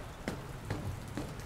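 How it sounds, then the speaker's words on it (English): Steady rain falls on surfaces in a video game, a soft even patter with a few brief louder drops, with no voices. "It's raining."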